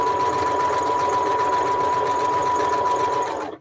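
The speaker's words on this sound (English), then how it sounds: "It's just Sandra's sewing machine." A sewing machine runs continuously with a fast, even mechanical rattle and a steady whine, close by, then stops abruptly.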